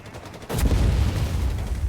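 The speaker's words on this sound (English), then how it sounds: "we got the late fuse barrage here against the Fallschirmjägers up north" Late fuse artillery barrage in Company of Heroes 3, striking Fallschirmjäger infantry: a sudden loud blast lands mid-clip and rolls into sustained heavy rumbling with scattered crackle.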